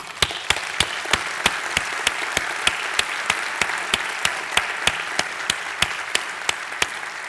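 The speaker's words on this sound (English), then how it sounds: "I think we should hand an applause for them" Sustained crowd applause fills a closing ceremony, a steady wash of many hands clapping together, with a series of sharp, evenly spaced louder claps cutting through it at regular intervals.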